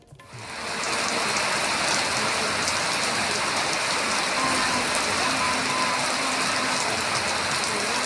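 Heavy rain pours onto a road in Keeranur village, a steady, loud, close hiss that rises within the first second and then holds unbroken.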